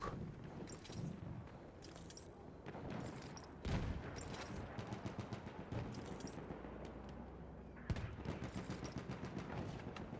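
Dense, continuous gunfire from the Battlefield 1 video game, with rapid rifle and machine-gun bursts layered over a steady battle din and sharper close shots standing out at intervals.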